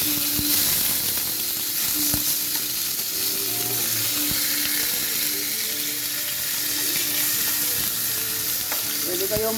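Pork grilling in a little oil in a frying pan: a loud, continuous sizzle and crackle of frying with occasional pops and stirring, steady throughout with no talk.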